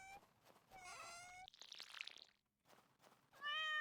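A cat meows several times, each call a drawn-out, tonal wail. The meows are separated by softer rustling and a pause, and the last one is the loudest, heard close by in a quiet room.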